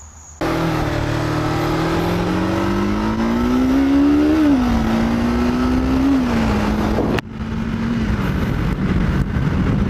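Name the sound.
Kawasaki Ninja 500 motorcycle riding on a test ride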